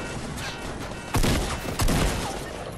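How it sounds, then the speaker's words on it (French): Two loud gunshots in a Fortnite battle royale match near a gas station, sharp and close, standing out over a steady background din. "Ça tire à balles réelles."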